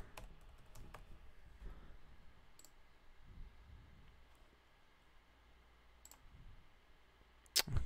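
Computer keyboard keys click as a password is typed, sparse and fairly quiet taps spread over several seconds, ending with a couple of sharper, louder clicks.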